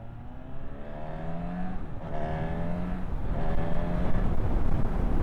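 A Honda CB 1000 Hornet motorcycle ridden in rain mode, its engine pulling through gears with rising revs and shift breaks, loud and close with wind rush building; no talking.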